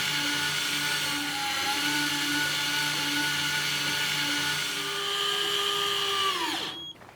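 An electric fishing reel spools braid line under tension, a steady high motor whine with a faint rhythmic mechanical hum that holds for several seconds, then drops in pitch as it winds down and stops abruptly.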